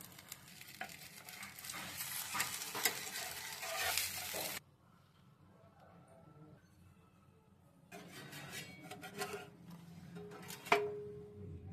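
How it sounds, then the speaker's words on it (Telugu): Egg rava dosa fries in oil on a pan, with a steady sizzle and stirring scrapes that stop for a few seconds of near quiet, then resume with a louder crackle. "సరిపడా ఆయిల్ వేసుకొని మంచిగా కాల్చుకోవాలి దోరగా"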